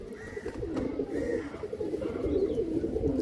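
Pigeons cooing in a pigeon loft, several soft throaty coos repeating in close succession at moderate loudness, with faint rustling and background murmur.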